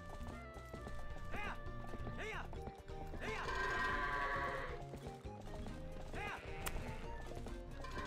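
Goats bleat in a video game, with wavering bleats recurring over game hoofbeats and background music, while someone talks over it.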